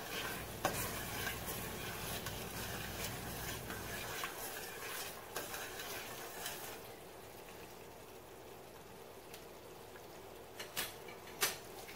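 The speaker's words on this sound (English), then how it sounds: "And stir together." Ghanaian spinach stew stirred in a pot, with soft scraping and a gentle bubbling sizzle throughout, close and quiet, and a few louder knocks near the end.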